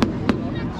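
Fireworks from a national holiday display in Huy, Belgium: two sharp, booming bursts about a third of a second apart, loud and close, with a continuous rumbling crowd and background noise between them.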